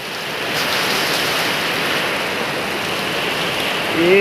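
Heavy rain pouring steadily during the year's first big storm, a dense, loud, unbroken wash of water noise with no talking.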